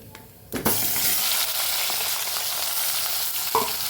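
Stuffed potatoes and eggplants drop into hot oil with a sharp burst, then a steady, close sizzle and crackle holds throughout, with a brief stirring clatter near the end.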